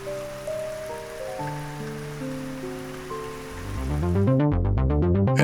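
Steady rain falls with a soft, continuous hiss beneath prominent music, which swells louder with pulsing notes toward the end.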